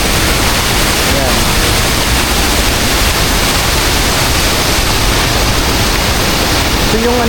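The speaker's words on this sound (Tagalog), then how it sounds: "Ang tawag sa falls na to ay Marmot Falls." Marmot Falls, an upper waterfall on the Troll Falls hike in Canada, roaring as a loud, close, continuous broadband rush that fills the whole span.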